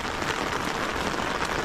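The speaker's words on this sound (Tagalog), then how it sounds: "oh, lakas na ng ulan na." Heavy rain falls outdoors in Finland, a dense, even hiss of drops striking surfaces close by, steady and unbroken with no voices.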